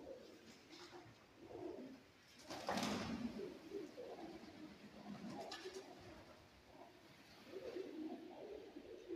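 Pigeons coo in soft, repeated throaty phrases inside an abandoned church in Scotland, with a brief burst of wing flaps or rustling partway through and a steady hollow room tone underneath.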